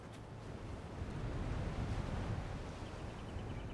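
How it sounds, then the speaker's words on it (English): Waves washing onto a shoreline in the fantasy game Avowed, a soft, continuous rushing surf that swells gently and stays low and steady throughout. "the waves hit the shoreline and creates like a noise"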